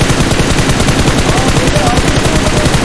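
Continuous loud automatic gunfire in the mobile game PUBG Mobile, a dense rapid stream of shots with faint voices mixed underneath.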